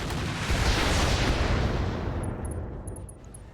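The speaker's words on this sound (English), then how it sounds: "The Marksman is going to fire on that MML carrier" A Marksman mech in the RogueTech game opening fire on an MML carrier, a heavy rumbling barrage of booming shots that peaks early and gradually tapers off.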